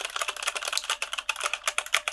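Fingers type steadily on a gaming keyboard at a dark, minimal desk, producing a quick, close run of crisp clicks and clacks with no voices.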